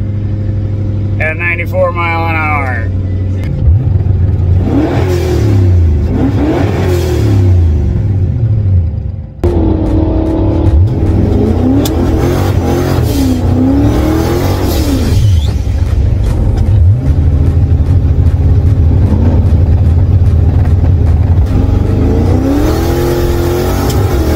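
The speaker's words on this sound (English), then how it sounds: "hit the rev limiter" A Lincoln Town Car engine revs hard and repeatedly toward its rev limiter, loud and close, with rising and falling engine pitch and brief voices and whoops between pulls.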